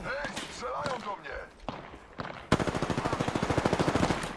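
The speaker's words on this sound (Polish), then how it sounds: "Strzelają do mnie!" Rapid automatic gunfire in the video game Apex Legends, a loud, steady burst of evenly spaced shots filling the second half, preceded by a player talking over scattered game sounds.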